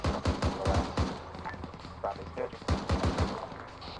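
Rapid bursts of automatic gunfire in a tactical shooter game crack out in loud, clustered volleys with short gaps between them, while players talk over the shots.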